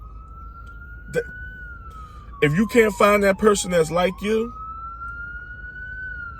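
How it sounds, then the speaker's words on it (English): An ambulance siren wails steadily in a slow rising and falling tone as it passes along a street, while someone talks over it for a couple of seconds in the middle. "I'm gonna let this ambulance go by."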